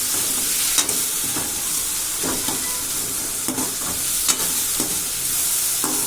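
Tomatoes sauté with rock salt in a pan, giving a steady close sizzle with scattered spatula scrapes and light clicks at irregular intervals.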